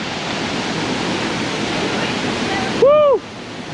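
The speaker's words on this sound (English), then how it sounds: "here we are, CHANIA Falls." Chania Falls in Kenya roars as a loud, continuous broadband rush of falling water heard from close by, briefly interrupted near the end by a person's short excited whoop.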